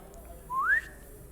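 A short rising whistle tone from a video game's warp whistle, a single clean sweep upward lasting about a quarter second over faint background hiss.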